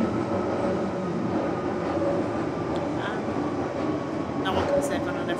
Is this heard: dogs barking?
no